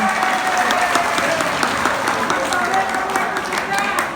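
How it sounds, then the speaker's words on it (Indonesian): A crowd applauds and cheers for sponsors at a televised village quiz event in Bali, the clapping loud and dense throughout, with voices mixed into the steady roar. "Boleh beri tepuk tangan untuk sponsor kita hari ini."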